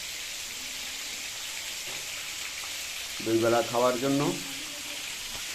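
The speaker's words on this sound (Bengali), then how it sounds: "মাছ ভাজা চলছে" Fish sizzles and fries in a pan for an old-age home meal in Barisal, a steady hiss running throughout, with a short stretch of speech over it partway through.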